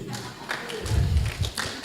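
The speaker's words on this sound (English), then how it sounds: "Can we clap for him?" An audience at a school debate championship claps for a boy, with scattered, uneven claps close by mixed with a few low thuds.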